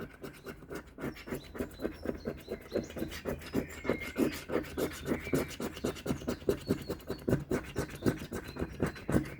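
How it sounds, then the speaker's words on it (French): Scratch-off lottery tickets from a tobacconist being scratched with rapid, rhythmic rasping strokes, close and steady for several seconds without talk. "Allez, on gratte, on gratte, on gratte, on gratte, on gratte"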